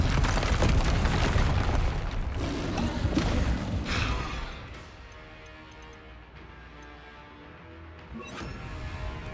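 Confringo fire spell in Hogwarts Legacy on PS5, a burst of crackling blasts and booms in the first few seconds fading into quieter game ambience, then a sharp impact near the end.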